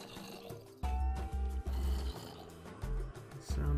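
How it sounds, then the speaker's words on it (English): Zombies in the Minecraft video game groan in a series of low, rumbling moans, some louder and closer than others, with no speech over them. "It sounds like I'm just about to walk into a zombie convention."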